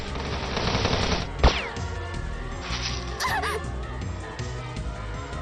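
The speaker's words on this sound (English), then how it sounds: "One of the men fired several rounds toward her" Gunfire in the visual novel game Steins;Gate 0, with a sharp shot and a few quick rounds standing out briefly over a dense musical score, accompanied by faint whooshing effects.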